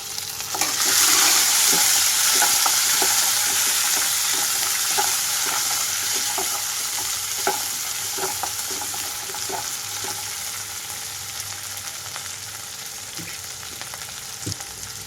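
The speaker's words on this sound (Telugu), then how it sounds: "ఉల్లిపాయలంతా సాఫ్ట్గా అయిపోయిన తర్వాత ఇందులోకి టమాటో వేసేసుకుంటున్నాను." Chopped tomatoes go into softened onions frying in a pan for an okra masala pulusu, and a loud burst of sizzling settles into a steady hiss with scattered clicks and scrapes from stirring, close up and without any talk.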